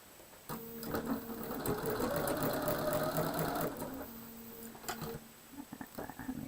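A sewing machine stitches steadily over a seam line in a quilt, a close, continuous mechanical whir lasting several seconds before slowing and stopping, followed by a few soft handling taps.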